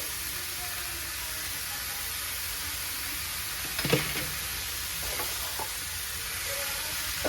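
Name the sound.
chicken with garam masala frying in a pan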